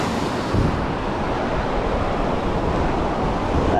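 Surf washes steadily onto a beach, a loud, continuous broadband roar without distinct breaks, with wind buffeting the microphone and no talk.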